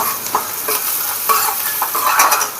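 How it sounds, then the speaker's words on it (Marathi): Onions frying in a pan for a dhaba-style vajdi masala curry, with a steady broadband sizzle and a few scraping stirs of a spoon against the pan, fairly close and continuous with no voices. "चांगल्यापैकी कांदा आपल्या भाजायला लागलाय"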